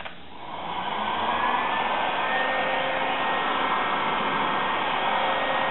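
A steady, loud rush of blown air from a heat gun used for stripping paint, starting up quickly and holding a constant whooshing drone.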